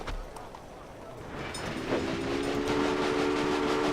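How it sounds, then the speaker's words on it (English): Steam train running in the video game Railway Empire: a rumbling rolling noise builds steadily, then a sustained, tonal whistle enters midway and holds to the end. "There's the train."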